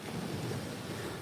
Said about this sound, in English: Them waves crashing up against it.